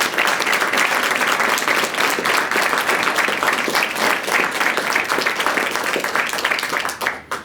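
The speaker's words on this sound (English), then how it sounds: "Let's give him a nice warm round of applause." Warm, sustained round of applause from a press conference audience, dense steady clapping filling the room at full level for several seconds before tapering off at the end.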